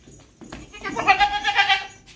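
Close goat bleats at a Qurbani livestock market, two or three wavering nasal calls in quick succession after a short rustle, with faint background noise.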